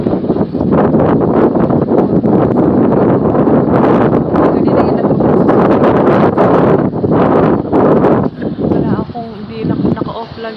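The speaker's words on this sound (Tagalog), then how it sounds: "Ba't mahangin?" Strong wind buffets the microphone outdoors on a hot day, a loud continuous roar with gusty surges that dip briefly near the end.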